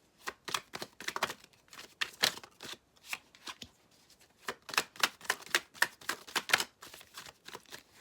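Tarot cards are shuffled and dealt out by hand during a Virgo reading. Quick bursts of crisp riffling and slapping come up close, with short pauses and soft taps between them, and no talking.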